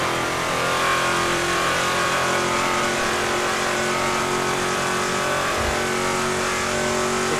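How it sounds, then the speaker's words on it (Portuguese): A car engine in GTA RP holds a steady high-revving roar, loud and continuous throughout with no talk over it. "Rapaz, esse carro aqui é uma nave, hein, rapaziada."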